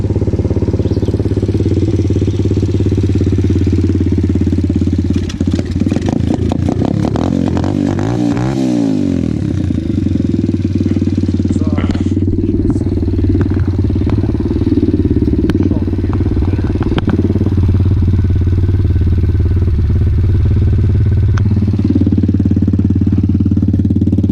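A 2020 Apollo RFZ X-18 dirt bike with its stock carburetor idles close by with a loud, uneven, chugging beat that rises and falls, and it revs briefly near the middle.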